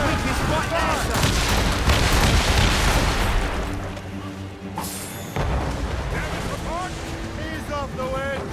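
Ship cannons fire in a naval battle in Assassin's Creed Rogue, heavy booming volleys rolling under wind and water noise, with shouting crew voices over the din.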